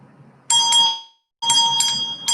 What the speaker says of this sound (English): We're ringing the bell,